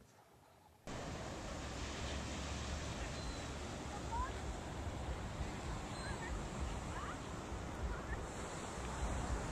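Steady, broad surf and wind roar at Topsail Beach, loud and continuous for nearly the whole stretch after a short quieter opening, with no voices.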